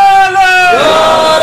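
An audience at a religious gathering (mehfil) loudly chanting a slogan in unison: sustained voices rising and falling in pitch, close and strong throughout.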